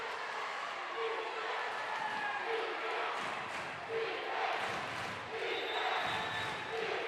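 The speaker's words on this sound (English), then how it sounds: "Mountain Lions all on their feet, cheering on" A high school basketball crowd at a district tournament game cheering steadily, a sustained roar of voices with whistle-like tones, under continuous commentator speech.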